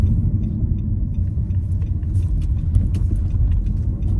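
A car driving along a road, heard from inside as a steady loud low rumble of engine and tyres with faint small rattles, no voices.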